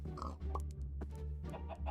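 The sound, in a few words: pigs and chickens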